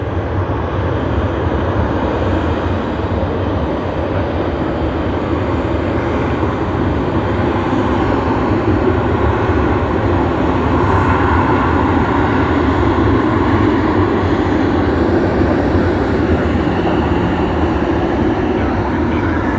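A Japan Airlines airliner in oneworld livery roars at Sydney Airport, a loud, continuous broadband jet rumble holding steady throughout with no breaks.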